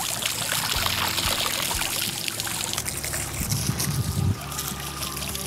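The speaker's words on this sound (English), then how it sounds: "Give the propeller a quick rinse and we're done with the power unit." Water sprays and pours steadily over the propeller of a Waydoo Flyer ONE electric hydrofoil board during a rinse, a continuous hissing, splashing flow heard close with no talk.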